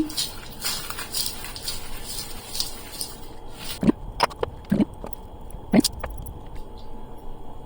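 Prawn biryani marinade of ghee, oil and lemon juice being mixed in a bowl, with soft squishy stirring and several sharp clinks of a spoon against the dish, close and without talk.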